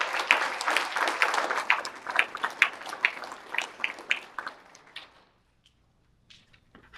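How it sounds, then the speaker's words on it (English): Applause at a school board meeting, a short burst of steady clapping from a modest group that fades out after about five seconds, leaving a few faint knocks in near silence. "Can we give her a round of applause to do that?"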